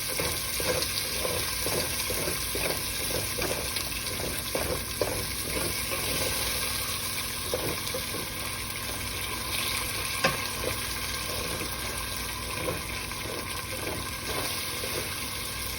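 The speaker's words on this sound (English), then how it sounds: "You want to scrape up the bits and pieces that you have." Beef for Puerto Rican carne guisada sizzling steadily in a pot while a utensil scrapes up browned bits, with repeated scraping strokes over a continuous frying hiss.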